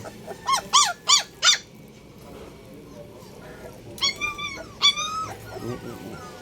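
Puppies shut inside a locked house give high, squeaky whimpers and yips in short bursts, a group of four and then several more, with faint background noise between them.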